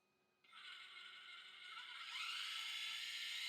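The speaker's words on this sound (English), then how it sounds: "I think what you're hearing is the swishing of the belts." Belts swishing in the drivetrain of a hobby RC car, a steady whirring that starts abruptly and builds slightly louder over a few seconds, close and alone.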